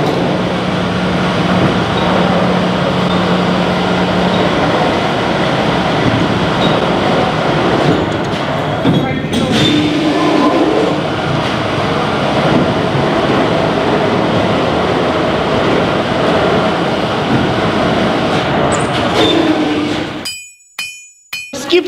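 A heavy ore wagon in a mine rumbles and grinds into a tipper with metallic clanks and bangs, loud and close, then the noise cuts off abruptly.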